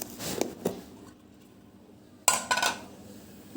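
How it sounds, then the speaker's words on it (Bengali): A metal lid is lifted off a steamer pot cooking taro and long beans: a couple of light clinks and scrapes, a quiet pause, then a sharper clank of metal on metal, close by and with no talk. "এখন ঢাকনাটা খুলি।"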